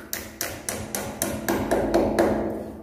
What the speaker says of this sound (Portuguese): Por isso que eu disse que precisa do martelo.